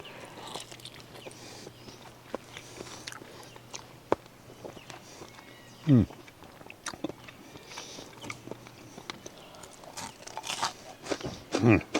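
Quiet crunching bites and chewing come up close in a few sharp bursts, with soft rustling and low background noise between them.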